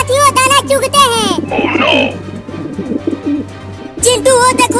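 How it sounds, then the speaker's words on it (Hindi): Cartoon pigeons coo in a lively string of voiced, bird-like calls over a steady low hum, with a short busy rustle in the middle; no distinct pecking on grain stands out. "चिंटू, वो देखो आसमान में ढेर सारे कबूतर उड़ रहे हैं।"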